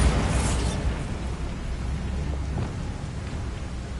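A Bombarda spell explosion in the video game Hogwarts Legacy: a loud, broad rumbling blast at the start that decays into a sustained low roar with scattered crackles.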